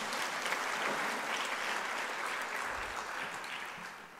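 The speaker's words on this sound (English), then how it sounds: "let me ask all of you to applaud" Audience applause for two county governments at an agricultural gathering, an even, sustained wash of clapping from a sizable crowd, fading slightly toward the end.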